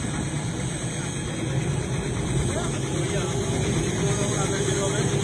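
A helicopter engine drones steadily and loudly throughout, with a car close by at a large public gathering, and the roar blends with crowd noise and voices.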